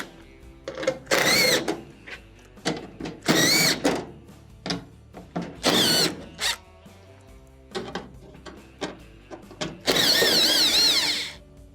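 Quarter-inch screws come out of the back plate of a GE dryer under a power driver, several loud whirring bursts of varying length separated by short quiet gaps, the last one longest.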